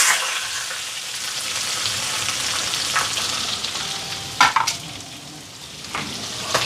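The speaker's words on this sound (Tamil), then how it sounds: "எண்ணெய் சூடாயிட்டு ரம்பில் கருவேப்பிலை வெங்காயம்" Curry leaves and onion fry in hot oil for a curry tempering, a constant close sizzle with a few sharp clatters of a utensil against the pan partway through.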